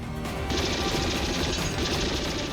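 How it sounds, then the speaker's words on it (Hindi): Dense, rapid bursts of gunfire crackle without pause, a loud, chaotic barrage that fills the whole moment. "गोलियां क्या चला रहे हो?"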